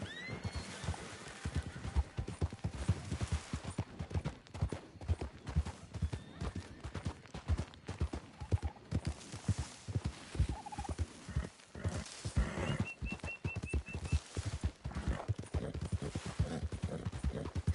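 Galloping horse hooves pound in a fast, continuous clip-clop rhythm in the Red Dead Redemption Online video game, with occasional faint whinnies and background game sounds.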